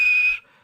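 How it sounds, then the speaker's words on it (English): A toy steam engine named Edward gives a single steady high whistle blast of about a third of a second, fairly loud and close, which then cuts off into quiet. "And he blew his whistle."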